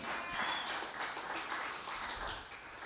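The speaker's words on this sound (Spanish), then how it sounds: "Dale un aplauso a Cristo Jesús entonces." A church congregation applauds during a sermon, a steady wash of many hands clapping at moderate level that swells and fades slightly over a few seconds.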